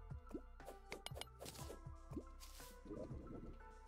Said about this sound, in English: Wait, there's some water going down here.